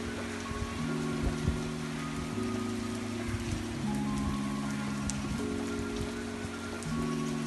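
Steady monsoon rain falling outdoors among trees and leaves, a constant dense patter and hiss at moderate volume, with a low repeating musical tone underneath and no talk.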